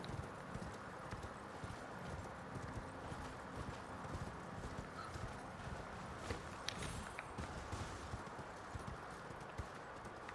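Horse hoofbeats clop steadily and continuously as a rider travels through Elden Ring's Mt. Gelmir region, an even, unbroken galloping rhythm lasting throughout.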